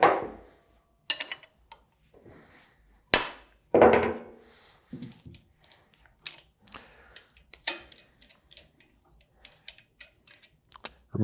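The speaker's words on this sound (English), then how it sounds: "dead blow mallet" A dead blow mallet strikes a jam nut wrench while jam nuts are loosened on a Universal 1 pump wet end, giving sharp, irregular knocks and clanks with gaps of quiet between them.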